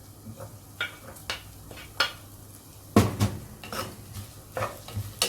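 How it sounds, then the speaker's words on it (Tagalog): Crushed garlic and ginger saute in a pan, a soft low sizzle broken by repeated clinks and scrapes of a utensil against the pan, with one louder clatter midway, close by and without talk. "Put in our crushed garlic. Then we saute our ginger."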